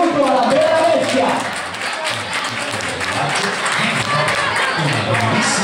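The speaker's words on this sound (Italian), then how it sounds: "Un applauso e benvenuto alla Bella Bestia." Audience applause at a children's puppet theatre show, a dense steady clapping that stays loud for the whole stretch, with a voice briefly audible at the start.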